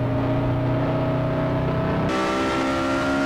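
Lotus Elise SC engine on the Laguna Seca circuit, a steady harmonic drone that shifts to a higher, harsher pitch partway through as the throttle opens, loud and close with no talk.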